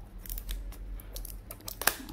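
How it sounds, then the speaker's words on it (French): Scissors snipping through plastic toy packaging, a few quiet close cuts with light crinkling of the wrap and a sharper snip near the end, no talking. "On va reprendre notre paire de ciseaux."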